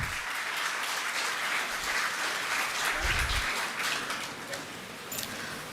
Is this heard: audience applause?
yes